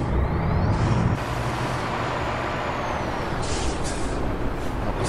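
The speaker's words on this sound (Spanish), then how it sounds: "Vamos frenando, vamos." Air brakes on a Freightliner Classic XL truck hauling a double trailer on a Colombian road, a loud steady hiss with a sharp release burst partway through over engine rumble.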